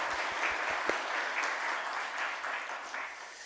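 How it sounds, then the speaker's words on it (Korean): A church congregation at a Sunday morning service claps together, a steady mid-level wash of many hands from a large room, with a few sharper claps standing out near the start. "하나님께 영광 돌리는 귀한 박수 영광 돌리도록 하겠습니다."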